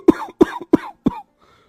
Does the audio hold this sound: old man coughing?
yes